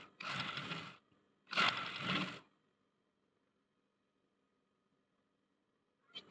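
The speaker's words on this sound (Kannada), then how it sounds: "ಅದಕ್ಕೆ ಮೇಲ್ಗಡೆ ಇನ್ನೊಂದು ಸ್ಟಿಚ್ ಬಿಟ್ಕೊಂತ ಇದ್ದೀನಿ." A sewing machine runs a topstitch on a blouse in two short, quick mechanical bursts about a second each, followed by near silence and a brief tap at the end.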